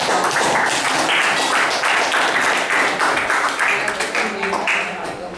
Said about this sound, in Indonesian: Kita beri tepuk tangan anak-anak.